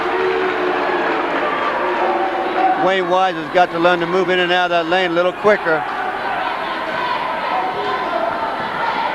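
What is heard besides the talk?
basketball game crowd in gym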